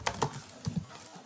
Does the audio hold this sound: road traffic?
no